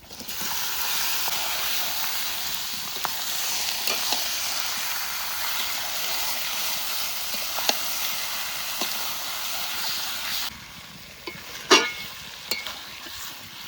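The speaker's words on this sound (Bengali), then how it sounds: "মাংস দিয়ে একটু নাড়াচাড়া দিয়ে নিলাম" Chicken pieces hit a pan of oil-fried spice paste and are stirred, giving a steady, broad sizzle that drops away near the end, followed by a few clanks and scrapes of the stirring utensil.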